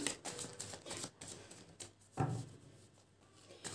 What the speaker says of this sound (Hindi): मैं कार्ड शफल कर लेती हूँ